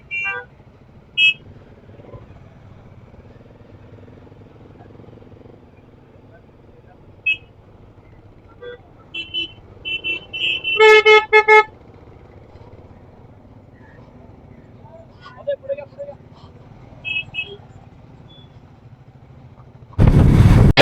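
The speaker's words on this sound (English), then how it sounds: "Let the car completely pass." A car passes along the coastal road at Velas on the Maharashtra coast, its engine a low steady rumble, with a loud horn blast sounding in the middle and a few shorter beeps before and after.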